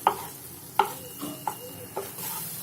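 Pav bhaji masala scraped and pushed to one side of a pan over low heat, giving four or five soft scraping strokes with a faint sizzle underneath.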